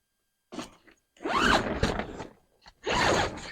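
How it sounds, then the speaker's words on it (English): Tent zipper being pulled open in a few separate rasping strokes, close and fairly quiet, with short pauses between pulls. "As soon as I can find the zipper,"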